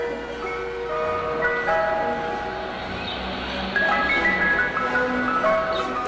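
An ice cream truck plays its chiming melody, a tinkling electronic tune of sustained bell-like notes heard at moderate distance over faint outdoor background noise.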